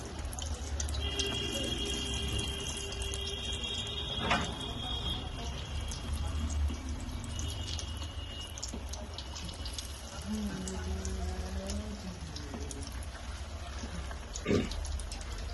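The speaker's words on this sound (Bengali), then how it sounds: "চিকেনটা কত সুন্দরভাবে ফ্রাই হতে শুরু করে দিয়েছে" Chicken wings sizzling in hot oil for crispy wings, a soft, steady frying hiss with occasional small pops, fairly quiet throughout.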